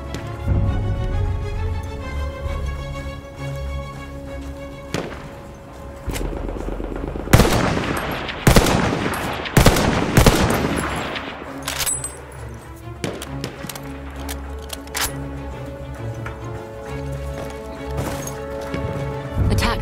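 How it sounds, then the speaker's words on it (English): Enemy artillery barrage in the World War I shooter Battlefield 1, repeated booms and rapid gunfire clattering amid a swelling burst of heavy blasts, with a loud cluster of detonations in the middle over a constant battle din. "Wait for the enemy artillery barrage to stop firing."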